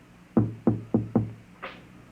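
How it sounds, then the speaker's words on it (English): Four firm, evenly spaced knocks strike a door in a 1950 radio drama, close and distinct, followed by a softer, brighter tap as the sequence ends. "And then there was a knock on the door."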